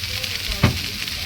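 Chow mein frying with tomato and onion in a pan, a close, steady sizzle with a short stirring knock midway through.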